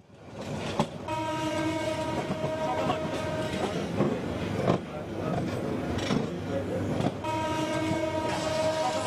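A Mohanagar Provati passenger train heading to Chattogram on an Eid holiday journey rumbles and rattles steadily, heard from on board, with sustained horn blasts sounding in stretches.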